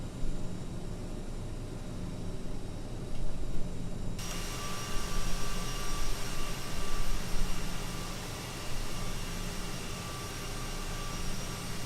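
Airliner jet engine in Microsoft Flight Simulator 2020, a steady broadband roar that thickens partway through as engine power builds during a left-hand departure turn, continuous and fairly loud with no talking.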